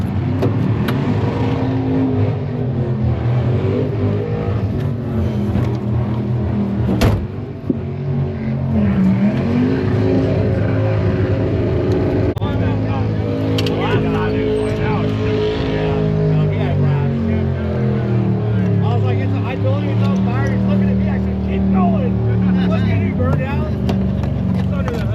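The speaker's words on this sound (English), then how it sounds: "So of course, I'm gonna go do some skids in Neighbor." Someone's car Neighbor revs hard and does skids, its engine repeatedly surging and falling in pitch over a long stretch, loud and close, with tire noise and bursts of power mixed with occasional voices underneath.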